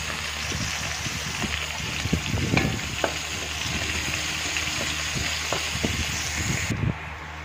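Onion and green chillies frying in a large wok, a steady close sizzle with scattered stirring clinks and scrapes, no voices.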